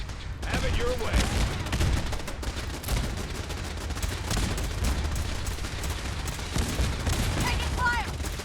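Sustained gunfire from a firefight in Fallout 4, dense overlapping shots and bursts running loud and steady throughout, with voices calling out amid the shooting.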